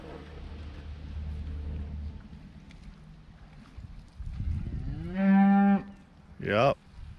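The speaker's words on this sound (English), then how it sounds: "it's cow time. They are coming down to get drinks." Cattle coming down to a pond to drink let out two loud, close moos near the end, one long and drawn out, the other short, after a quieter stretch of outdoor rumble and wind.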